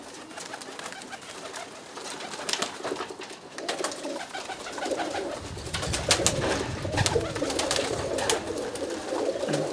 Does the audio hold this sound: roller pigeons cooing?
yes